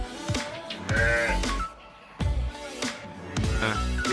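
A pregnant sheep close to giving birth bleats repeatedly on a farm, loud and near, with several long quavering calls separated by short pauses.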